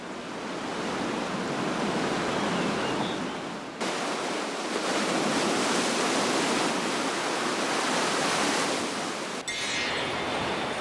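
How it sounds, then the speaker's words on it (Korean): Loud, continuous surf crashes and churns close by on the rocky coast at Samcheok, Gangwon, a broad roaring wash of water against rocks that swells and briefly eases, with no voices. "바위에 부딪히는 파도 소리가"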